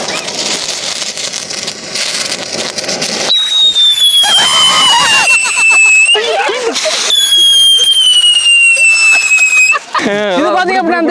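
Fancy firecrackers and whistling fireworks at a Diwali-style celebration give off loud crackling bursts and long rising whistle tones that sweep downward, one after another, with voices talking throughout.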